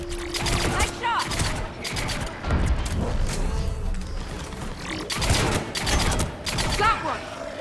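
Gunfire in the Mass Effect video game during a combat sequence: bursts of rapid shots and impacts over a busy, loud game soundscape, with voices talking intermittently throughout.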